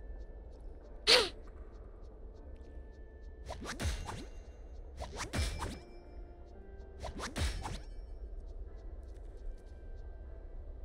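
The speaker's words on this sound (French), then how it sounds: "J'ai envie d'éternuer." A single sharp sneeze bursts out near the start, loud and close, followed by several rustling whooshes and scrapes like cloth or hand movement.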